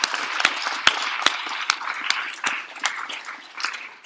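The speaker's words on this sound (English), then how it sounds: "let's give all the students a round of applause" Applause from a school assembly crowd honoring middle school students, a moderate steady clapping with sharp individual claps standing out, lasting throughout without voices.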